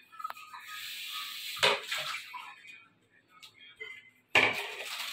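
Food is rinsed in water inside a container, with splashing swishes and light clinks of a dish or utensil coming in short bursts separated by pauses, heard close by.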